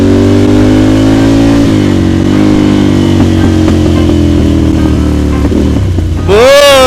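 Ducati Monster motorcycle engine revving hard and close, the pitch sweeping up and down through several throttle blips with crackling exhaust pops, ending in a sharp high rev.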